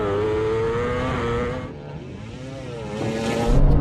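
A Porsche 911 Turbo S launches in a drag race against a KTM motorcycle and a Red Bull MotoGP bike, engine and exhaust roaring steadily with rising revs, then surging louder near the end.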